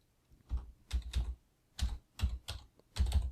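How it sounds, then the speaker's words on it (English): Keys tapped on a computer keyboard in quick bursts of two or three strokes, with short pauses between clusters, close and clear with no voices. "here type the word that you are looking for"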